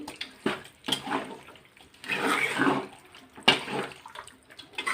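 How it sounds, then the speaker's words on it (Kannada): Water poured from a small glass into a pan of chicken curry (chicken puli munchi), splashing in a few separate bursts, close and fairly quiet, with no one speaking. "ಇದಕ್ಕೆ ಇವಾಗ 1 ಲೋಟದಷ್ಟು ನೀರು ಹಾಕೋತಾ ಇದ್ದೀನಿ"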